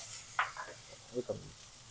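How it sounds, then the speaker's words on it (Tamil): Crushed onion, tomato and curry leaves hit hot oil with mustard seeds in a pan for crab masala, giving a soft sizzle with a few brief stirring scrapes. "இடிச்சு வச்ச வெங்காயம் அண்ட் தக்காளி, கருவேப்பிலை போடலாம்"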